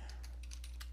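Keys being typed on a computer keyboard while entering a Windows 10 command: a quick run of five or six close, crisp keystrokes over a steady low hum.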